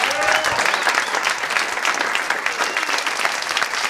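A live stand-up comedy crowd claps and cheers for a comedian being brought on stage, a dense, steady wash of applause lasting the whole stretch at full strength.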